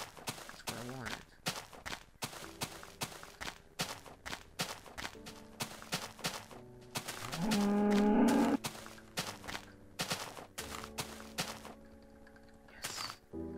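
Several cow moos from Minecraft, with a louder close low moo near the middle, over steady rhythmic blocky footsteps and game clatter throughout.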